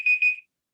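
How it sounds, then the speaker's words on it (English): A kitchen timer alarm goes off with two quick high-pitched beeps in a row, loud and close, then stops abruptly into silence. "That was the timer."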